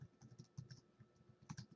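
Quiet typing on a computer keyboard while entering a name into a blank document, a quick irregular patter of soft key clicks bunched in short bursts, close and alone.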